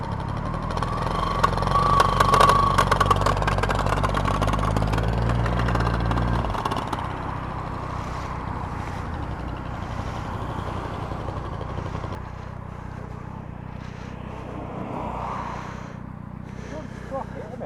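A Yamaha XT500 motorcycle engine runs steadily at idle, loud at first and then settling to a lower drone after a few seconds, with the gears failing to engage; people talk over it.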